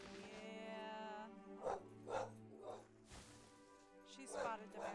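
Dog barking in short sharp bursts near the microphone, rising and falling over several seconds, with whining at the start and people talking alongside.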